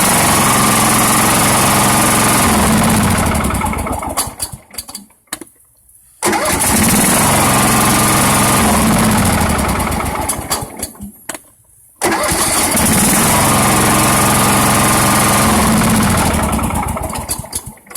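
A lawn mower engine fresh from a starter solenoid rebuild cranks and catches three times in a row, each time running loud and steady before sputtering to a stop, with no one talking.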